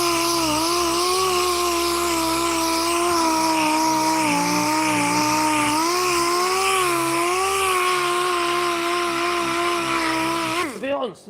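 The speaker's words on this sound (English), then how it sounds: "Sander on there." Power sander running loud and continuous on an upcycled wooden side table, a steady whine that wavers slightly in pitch as it works, then cuts off abruptly at the end.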